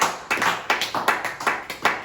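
Church congregation clapping in rhythm at a Sunday service, a steady run of loud, evenly spaced claps, roughly three per second, with no talk over them.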